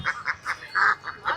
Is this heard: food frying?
no